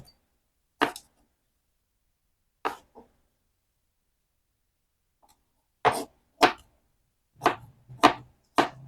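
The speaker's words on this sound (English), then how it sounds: "we're going to cut these up into small pieces" A knife cuts broccoli stems into small pieces on a board, giving sharp isolated chops: two separated strikes, then a quicker run of about six chops near the end, with quiet gaps between them.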